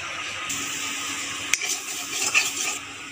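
Fish frying in a pan for a kochur loti and baim fish recipe: a steady hiss of hot oil throughout with a sharp clink near the middle and soft scraping stirs, no talking.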